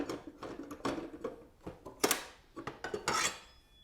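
Metal clinks and scrapes as an arbor nut and keyed washer from a Skil TS6307-00 table saw are handled, a quick irregular series of close, sharp jingling taps and rattles.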